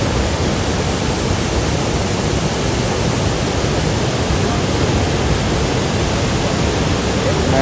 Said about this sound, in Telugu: బొగోతా వాటర్ ఫాల్స్, ములుగుడి.